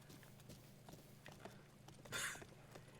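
Horse hooves clip-clopping in the video game Breath of the Wild, a steady walking gait of soft thuds under a low background hum, with a brief brighter rustle near the end.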